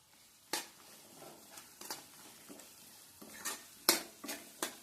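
Spices such as coriander-cumin powder being stirred into a pan for Gujarati farali sabudana khichdi, with a quiet sizzle under irregular scrapes and clinks of a spoon against the pan.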